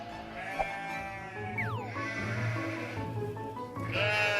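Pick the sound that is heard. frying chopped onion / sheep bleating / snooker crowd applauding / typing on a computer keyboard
sheep bleating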